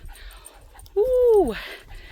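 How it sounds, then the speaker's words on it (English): A dog lets out a single drawn-out whimpering whine, rising and falling close to the microphone, while faint talking sits underneath; it reacts to a neighbor's two unleashed dogs outdoors. "one of the neighbors has two dogs that weren't on leashes"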